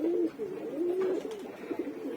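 Several soft, low coos from pigeons nearby, repeating in a gentle rolling rhythm with no talking.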